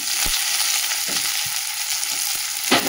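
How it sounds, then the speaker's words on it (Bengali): Loud, steady sizzling of ivy gourd frying in hot oil, with a few soft scraping stirs mixed in. "কুঁদরিটা ভেজে নিই, তারপরে মাংস দেবো"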